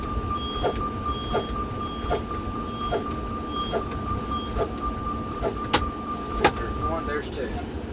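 Truck air brakes are pumped during an in-cab inspection, giving a string of short, evenly spaced bursts about once a second under a steady warning beep inside the cab, with low background rumble.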